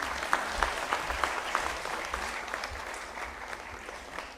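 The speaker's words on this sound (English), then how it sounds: "We can always have, applause keep coming." Applause at a university convocation ceremony, a steady patter of many hands clapping at moderate distance, sustained without breaks and with no voices heard over it.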